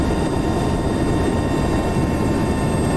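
In the DCS World game, a UH-60L helicopter's engines run down after shutdown, giving a loud, constant turbine roar and whine with a steady high tone and no talking over it.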